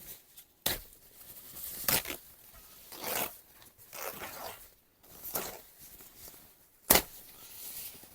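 Crinkling and rustling plastic as a bag is pulled and slid off a new guitar, in irregular bursts with a few sharp louder rips, nearby and without speech.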